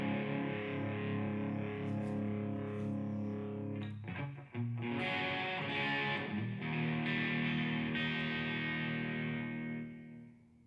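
Electric guitar played through the overdrive side of a Fender Pugilist pedal: sustained driven chords ring out, a short choppy strummed passage in the middle, then a held chord decaying at the end, with no talking.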